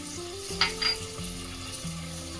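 Finely chopped tomatoes added to sautéing onions in a pan for soya rice, a soft steady sizzle with a couple of brief stirring scrapes near the start, close and quiet, no voices.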